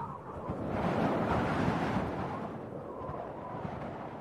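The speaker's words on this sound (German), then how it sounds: "Wind und Sturm." Wind and storm rush as a steady, broad roar that swells in the middle and then eases, with no voices.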